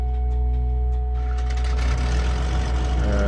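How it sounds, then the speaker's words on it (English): Simulated Cessna 414AW Chancellor piston engine in MSFS2020 starting up, cranking and catching into a rising roar over a steady low cockpit hum. "And the engine comes to life."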